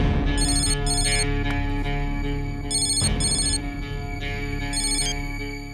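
A mobile phone ringtone repeats as bright electronic chirping bursts in a regular pattern over a steady melodic tone, fairly clear and close, with no voices.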